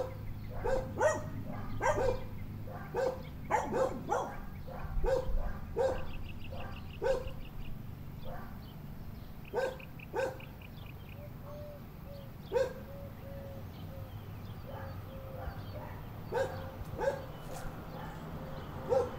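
A small dog gives repeated sharp barks and yips at irregular intervals, some in quick bursts and some spaced apart, fairly close in a quiet room with faint low hum.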